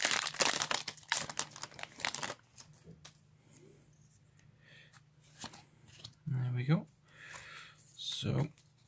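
Foil Pokémon Sun and Moon Guardians Rising booster packs being torn open and cards shuffled, giving dense crinkling and crackling bursts early on, then sparse rustles and two sharper crinkles near the end, with a low steady hum beneath.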